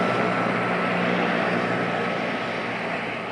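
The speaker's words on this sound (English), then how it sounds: "guides the helicopter to the scene of the next crisis" A news helicopter flies near Santa Monica Airport, its engine and rotor forming a steady, loud, broadband roar that fills the whole stretch without a break, heard alone with no voices.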